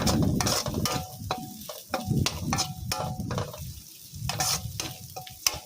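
Stir-frying crispy pork with chili and salt in a wok: a spatula scrapes and clanks rhythmically against the pan while food sizzles underneath, close up, with no talking.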